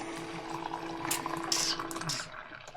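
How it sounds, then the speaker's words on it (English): Hot water poured from a kettle into an Aeropress coffee maker, a steady close trickle with a faint hum beneath and splashy bursts partway through, no talking. "We're going to add some water"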